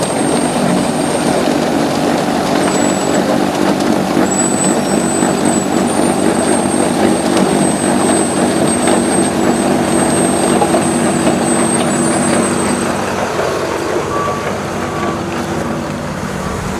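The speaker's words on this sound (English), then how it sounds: "a loaded truck" A loaded public works truck rolls past with a loud, steady engine roar and a high hissing whine of air brakes above it, continuous throughout with no voices.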